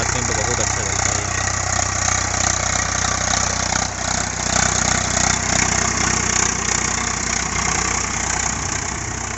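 A Swaraj 744 XT tractor engine pulling a cultivator runs with a steady, loud diesel drone and a knocking rumble throughout, with a voice talking over it.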